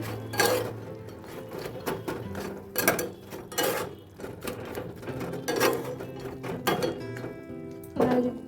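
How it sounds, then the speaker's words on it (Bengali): Soya chunks being stirred in a cooking pan for soya chilli, with repeated scraping and clanking of a spoon against the metal at an uneven rhythm, close and fairly loud. "আমি উপর থেকে সয়াবিন দিয়ে নেড়ে নেব"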